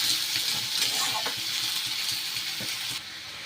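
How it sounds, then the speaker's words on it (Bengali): Onions frying in a pan with a little salt, a steady close sizzle and crackle running throughout, with faint stirring and scraping of the pan along the way. "পেঁয়াজটা ভাজা ভাজা হয়ে গেছে"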